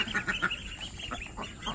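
Ducks honk and quack in a few short, nasal bursts, fairly close and moderately loud, while the birds are herded into their hut in a garden.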